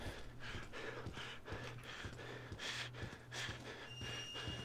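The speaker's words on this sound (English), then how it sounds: "this fucking breathing is so annoying" Heavy, rhythmic animatronic breathing from FNAF: Help Wanted, a steady run of panting breaths repeating close and loud over a low droning hum.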